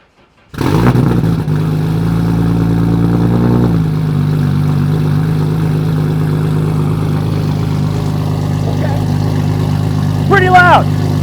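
An 1100hp R32 Skyline GTR street car fires up and settles into a loud, steady, lumpy idle close by, with a brief blip near the end and voices murmuring over the engine.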